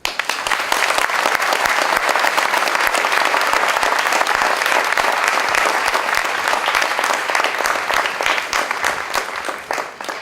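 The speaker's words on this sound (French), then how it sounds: "Je vous demande de faire un tonnerre d'applaudissements pour l'ancien président de MZ" Dense, sustained applause from an audience at an opening ceremony in Villejuif, France, loud and even throughout with no speech over it.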